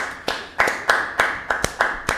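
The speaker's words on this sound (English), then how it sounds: "Let's just end it with a round of applause for Hustler." Sharp, close hand claps ring out about eight times at an even, brisk pace, sounding like one or two people clapping on a poker podcast stream rather than a full crowd.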